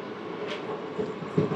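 A passenger train pulls away from Kadapa station with a steady rolling rumble and faint metallic clicks, no voices present.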